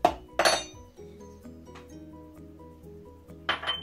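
Metal spoon clinking against a glass bowl of potatoes while curry spice is measured in, a few bright close clinks at the start and end with soft scraping between.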